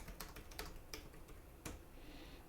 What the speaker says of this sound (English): So we can just type that.